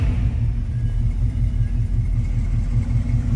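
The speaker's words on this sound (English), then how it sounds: "Those RPMs shoot up pretty quick." A 1967 Chevrolet Camaro with a 396 engine, tuned carburetor and mild cam, idles with a loud, steady low rumble and a lumpy, pulsing rhythm throughout.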